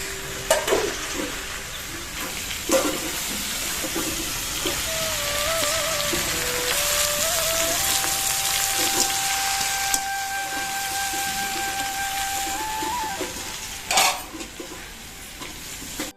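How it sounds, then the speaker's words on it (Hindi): Jackfruit curry with tomato and spices sizzling steadily in a pan while a spoon stirs and scrapes through it, a loud continuous fry with occasional clinks and no talk. "कम से कम 15 मिनट हो चुके हैं कटहल की सब्जी लोग भुंजावत"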